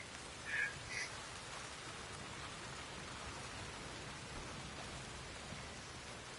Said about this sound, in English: nice, thick, steady rain to further add to the broadcast credibility and enjoyment by the viewer.